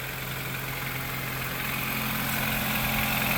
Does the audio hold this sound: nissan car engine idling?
yes